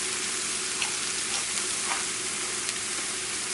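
Thin potato slices fry in hot oil for potato chips, giving a steady, close, bubbling sizzle with a few small pops and no talk.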